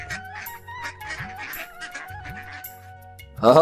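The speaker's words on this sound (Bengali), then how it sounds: "পুকুরের ওপর থেকে ঘাস আর পুকুর থেকে মাছ খেয়ে তাদের হাঁস অনেক বড় হয়ে যায়" Cartoon duck-pond scene: repeated nasal honks and quacks from domestic ducks over a looping low musical pattern, with a brighter burst at the very end, no speech.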